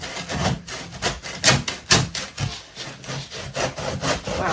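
Hand saw cutting through a block of dense houseplant soil mix, with rough, scratchy back-and-forth strokes in an uneven rhythm, close and moderately loud with no talking.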